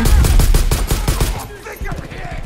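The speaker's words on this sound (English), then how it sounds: "Oh, I shot him in the face." Rapid bursts of gunfire in the video game Far Cry 5, a quick rhythmic string of loud shots that cuts off after about a second and a half, leaving quieter game sounds.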